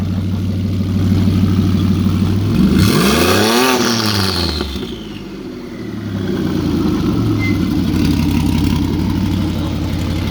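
A supercharged 3.7L V6 Ford Mustang S550 runs close by, idling steadily, then sweeps up through a sharp rev and drops back before settling again into a rough, rumbling idle.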